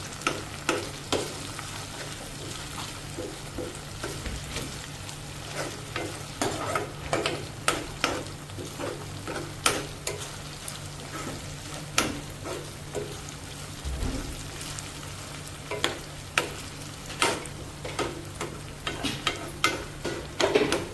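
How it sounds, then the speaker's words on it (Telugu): Ginger garlic paste frying and being stirred into a garlic tomato curry, a steady sizzle broken by frequent sharp scrapes and clicks of a spoon against the pan, no voices. "నెక్స్ట్ అల్లం వెల్లుల్లి పేస్ట్ వేస్తున్నాను నేను. వేసుకున్నాక బాగా మళ్ళీ ఒకసారి కలుపుకోవాలి."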